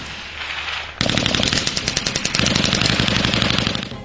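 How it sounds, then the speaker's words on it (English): Heavy weapons fire rapid automatic bursts during an army field fire exercise, sharp repeated reports close and loud in a steady stream after a low rumble. "To orient the cadets with different heavy weapons, they are taken to an exercise for a couple of days, namely field fire."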